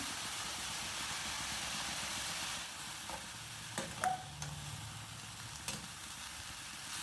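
Pumpkin leaves fry in coconut oil with a steady hiss and sizzle, and a few louder spits and crackles stand out as more oil goes into the pan.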